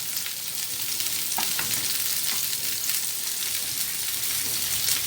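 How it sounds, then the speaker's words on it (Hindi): A beef burger patty and onions fry steadily in a pan over medium-low heat, giving a constant, dense crackling sizzle like light rain, close and even throughout. "ये देखिए, ये प्याज जो है ये देखिए अच्छी सी फ्राई हो रही है"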